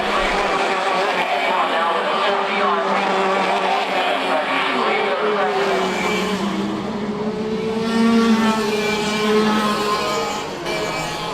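Race car running laps on a circuit during a qualifying session, its engine note droning continuously and fairly loud, pitch rising and falling with gear changes, under a steady commentator's voice.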